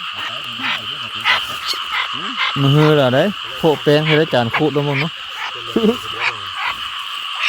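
Frogs croak in a rain-flooded rice paddy at night, a continuous pulsing chorus running under someone speaking close to the microphone.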